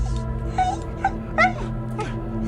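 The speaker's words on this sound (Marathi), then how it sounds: "कुत्रा रडण्याचा आवाज येत होता" A dog whimpers and whines in several short, high cries, close and fairly loud, over a steady low hum.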